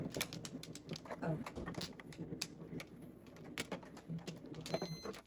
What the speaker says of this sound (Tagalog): Ibon naman, ibon.